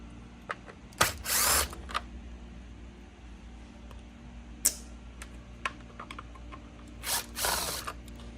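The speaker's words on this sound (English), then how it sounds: "So I'm just gonna go ahead and remove these 5 screws." A cordless power driver spins out T15 screws from the cleaner head of a Dyson DC65 vacuum, firing in short whirring bursts separated by quiet pauses and small clicks of handling.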